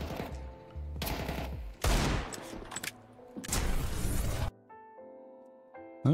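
Gunfire in Counter-Strike 2 comes in several loud, dense bursts of rapid automatic shots, separated by brief gaps. A quieter game tone follows the firing before one more burst cuts in at the end.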